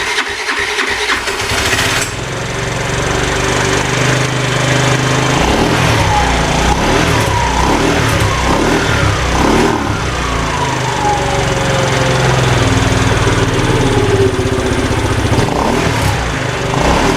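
A 4-stroke scooter engine that needs a new piston and is blowing abnormal smoke from its exhaust runs steadily and loudly for a long stretch, with a slight rise in revs early on.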